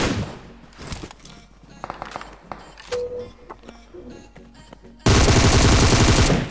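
Gunfire in a mobile battle royale game: scattered single shots and short bursts with thuds and footsteps, then a sudden loud, continuous burst of automatic fire at the end.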